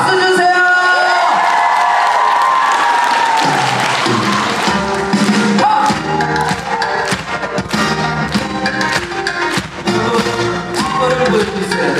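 A concert audience at a traditional Korean music expo cheers, whoops and claps loudly as a trot singer heads into his last song, with music and shouting mixed in throughout.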